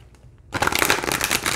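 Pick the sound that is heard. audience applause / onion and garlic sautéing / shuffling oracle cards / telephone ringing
shuffling oracle cards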